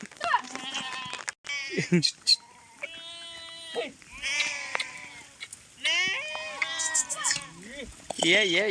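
A mixed flock of sheep and goats bleats loudly and constantly in rainy open country while herders separate the animals. Many overlapping, wavering cries come from close by, with short gaps between them.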